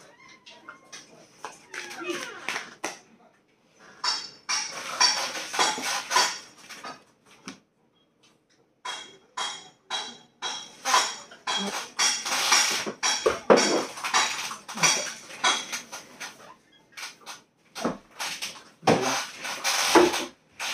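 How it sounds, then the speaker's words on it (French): A broom shoves a window shut indoors with irregular bursts of close clattering knocks, bangs and scrapes separated by brief pauses. "j'ai sorti le balai pour fermer cette fenêtre"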